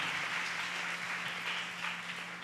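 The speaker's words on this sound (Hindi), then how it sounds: "ताली बजा के परमेश्वर को धन्यवाद दे।" A congregation claps together during a Sunday church service to thank God, a dense, continuous wash of applause heard at moderate distance over a low steady hum.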